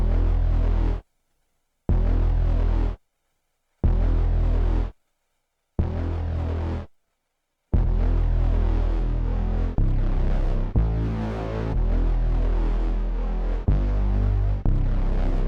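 A deep synth bass from the Proton plugin hits one sustained note in short pulses separated by silences, then holds into a continuous throbbing drone.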